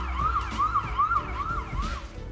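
Ambulance siren in road traffic, a loud wailing two-tone sweep repeating about every half second, close and clear over low engine and road rumble.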